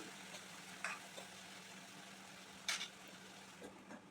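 Tomatoes being stirred in a frying pan while cooking khichdi, heard as a faint, low sizzle with two or three brief scraping strokes spread across the stretch.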